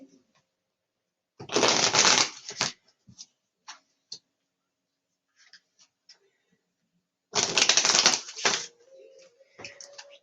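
A deck of Animal Oracle cards is shuffled twice, each a loud, close riffle burst lasting just over a second, separated by quiet light taps and card handling with no talking.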